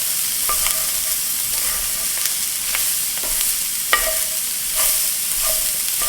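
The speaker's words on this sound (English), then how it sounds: "The next thing I will do is add the onion. And cook that" Onion frying in a pan for a beef and cabbage stew, an even close sizzle broken by sharp scrapes and clinks of a utensil stirring against the pan, with no voices.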